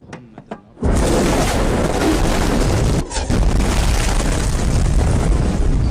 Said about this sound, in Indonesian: Serangan diawali dengan meledakkan terowongan di bawah tembok.